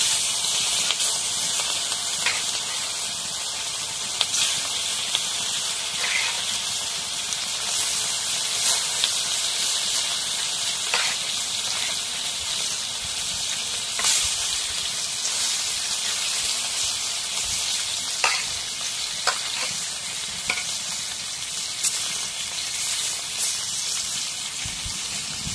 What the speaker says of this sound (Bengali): এখন তেল গরম হয়ে গেছে, এখন মাছ দিয়ে দিই।